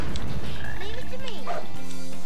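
A small cartoon frog croaks in the Sonic Heroes video game, giving a short run of bright, warbling game sound effects with a synthetic edge. The croaks sit mixed into the game's music and effects.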